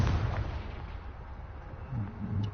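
Confringo, an explosion spell cast in Hogwarts Legacy, goes off as a heavy, booming blast with a rumbling low-end tail, then a second swell of crackling impact near the end.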